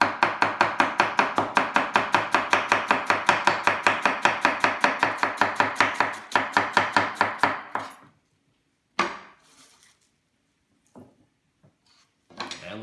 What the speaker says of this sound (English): I saw her cut up potatoes. You can chop up and down.